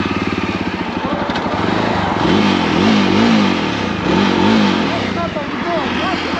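Two bikes, a Jawa Bobber 42 and a Royal Enfield Hunter 350, rev their engines close up in a loud, continuous run with rising and falling throttle blips, mixed with talking.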